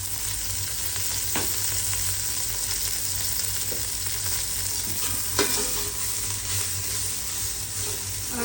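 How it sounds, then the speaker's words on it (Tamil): Ghee and oil sizzle steadily in a pan at the start of cooking biryani, a constant close frying hiss broken by a few faint scrapes and knocks, with no talking. "கொஞ்சம் நெய் ஊத்திக்கிறேன். எண்ணெய் நல்லா இழுத்துக்குது."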